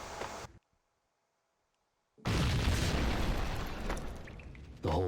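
A hand grenade explodes in the video game Max Payne, a loud booming blast bursting out of near silence and rumbling for several seconds before a second surge.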